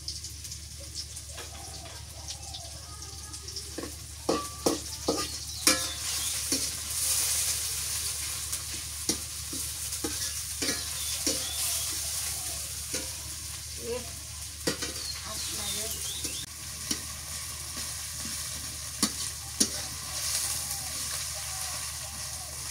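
Mutton curry frying with whole spices, bay leaf, cardamom, cinnamon and cloves in a village kitchen, a continuous close sizzle broken by repeated sharp scrapes and clacks of stirring, some louder than others.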